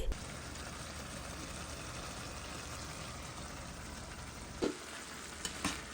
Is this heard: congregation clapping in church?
no